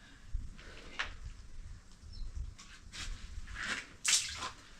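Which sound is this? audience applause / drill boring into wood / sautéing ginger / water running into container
water running into container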